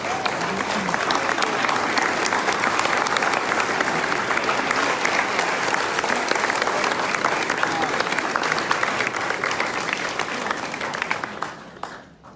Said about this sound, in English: And let's please give a round of applause.